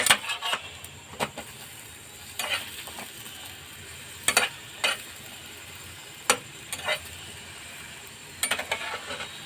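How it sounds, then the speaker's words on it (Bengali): Sattu parathas fry in a pan with a low background sizzle, broken by repeated sharp scraping and tapping bursts as the flatbreads are turned and pressed, spaced a second or two apart; no talking. "আমি প্রত্যেকটা পরোটা ঠিক এভাবেই ভেজে নেব।"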